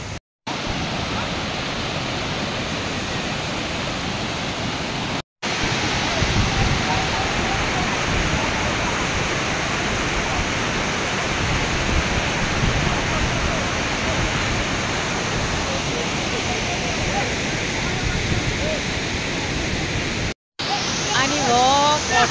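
The Bamanbudo waterfall in Canacona, Goa, roars as a steady, broad wash of rushing water, loud and continuous, broken only by a few short cuts.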